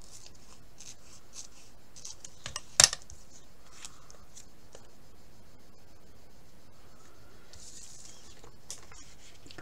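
Scissors cut through a sheet of thin transparent plastic, giving faint soft snipping and rubbing in a quiet room, with one sharper click partway through.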